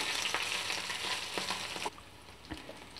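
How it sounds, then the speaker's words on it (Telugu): Green chillies, garlic cloves and tamarind fry in a pan, a dense close sizzle with stirring scrapes that drops to a quieter crackle partway through, with a faint clink near the end. "పచ్చిమిరపకాయ ముక్కలు, వెల్లుల్లి రెబ్బలు, చింతపండు. ఇప్పుడు వీటిని కాస్త వేయించుకుందాము."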